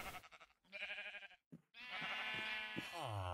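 Minecraft sheep in a farm pen give several nasal, wavering bleats, separated by short silent gaps and ending in a longer drawn-out call. The bleats are close and clear, with no talking.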